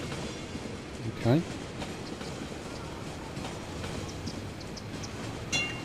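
A tram runs through a city in the game Cities Skylines, giving a steady low rail rumble with a brief clunk near the start and a faint metallic ring near the end, and one short spoken word.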